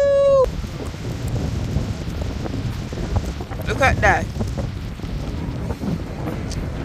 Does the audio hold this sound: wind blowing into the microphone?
yes